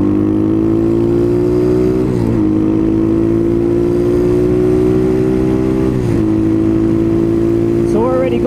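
A 2019 Apollo 250cc Chinese dirt bike engine revs loud and steady at high pitch, with brief dips as it shifts gears about every four seconds while the bike runs at speed.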